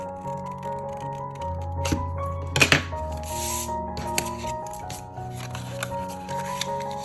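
Scissors cutting through folded paper for a craft treat box, a few crisp snips and rustles close by over faint steady background music.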